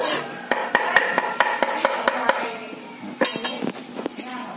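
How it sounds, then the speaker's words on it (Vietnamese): A knife chops softshell turtle innards into a stuffing mixture, sharp rapid taps on a board in a quick irregular rhythm with a short pause midway. "Mình băm một chút cái phần nội tạng của ba ba để làm nhân để nhồi lòng."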